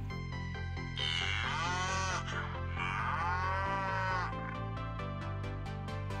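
A cow moos in long, drawn-out calls over a cheerful children's music backing, two loud lowing calls rising and falling one after another with no talking.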